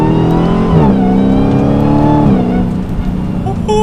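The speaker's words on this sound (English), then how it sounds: "you can hear that supercharger whine" A 2019 Dodge Challenger Hellcat Redeye muscle car accelerates hard, its engine roaring loud and close with a rising supercharger whine as revs climb and shift.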